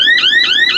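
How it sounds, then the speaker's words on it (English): Warning alarm on a Redlands 330 hay baler, a loud electronic tone that sweeps upward over and over in quick repeating cycles, heard alone and close. "I'm just going to push this worm gear override, and the alarm's going to start going off."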